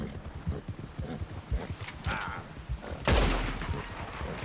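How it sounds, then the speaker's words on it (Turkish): Gunfire in Red Dead Redemption 2 cracks out in a sharp burst after a stretch of trotting horse hoofbeats, loud and close against background noise. "Belki de silah sesinden ürkmüş olabilir."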